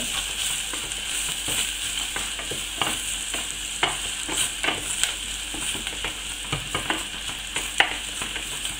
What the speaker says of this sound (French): je rajoute mon paprika. Et pareil, je mélange, attention, pas de coloration